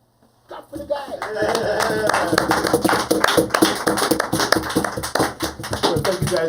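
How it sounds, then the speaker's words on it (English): A studio audience at a Puppet Village show claps steadily, a dense patter of hands that starts abruptly and holds at a lively level throughout, with a few louder bursts. "Clap for the guy."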